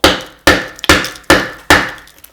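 A rolling pin taps a knife into a scored block of clear ice: five loud, sharp strikes at an even pace, each with a short ringing decay, close up and with no talking.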